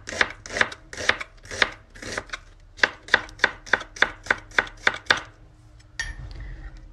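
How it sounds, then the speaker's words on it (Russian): Steady knife chops on a cutting board, about fifteen crisp evenly spaced strokes slicing through onion, close up, followed by a brief clatter. "Лук режем полукольцами."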